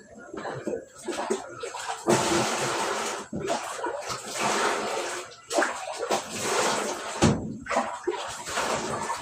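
Running water gushes in bursts while fern leaves (pako) are washed, loud and close, with short pauses between pours and splashes.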